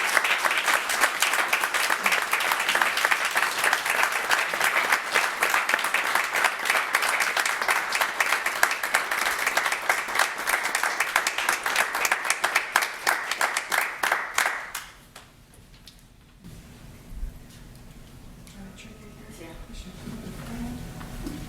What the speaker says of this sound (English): And I would like a big round of applause for these 5 individuals.